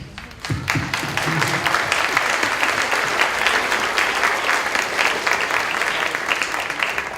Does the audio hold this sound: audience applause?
yes